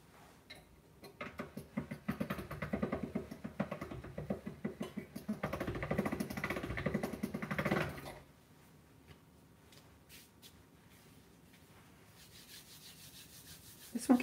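Fondant dusted with powdered sugar is fed through a machine, giving a close rubbing, grinding rumble that swells in two bursts and then drops to faint ticking and handling noises.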